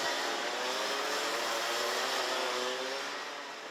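Junior racing karts at a Euro Trophy event in Genk pull away on a formation lap, their engines blending into a steady buzzing drone that fades slightly toward the end, no voices present.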